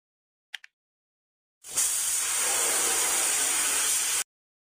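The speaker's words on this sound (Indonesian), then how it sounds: "Geser pistol semprot ke tempat yang rusak." Spray gun painting a damaged spot on a police car in a video game, a steady airy hiss lasting about two and a half seconds after two short faint clicks.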